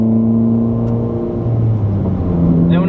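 A Ford Fiesta engine revs hard in 4th gear, a loud, close, droning growl with steady harmonic tones that shift slightly in pitch as it strains against the limit.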